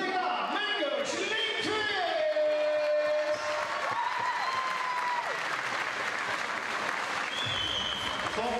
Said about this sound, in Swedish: en applåd för Lena Mengers